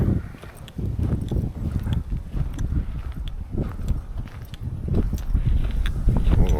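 Wind buffets and rumbles steadily, with low gusty roar throughout and scattered clicks and knocks on top.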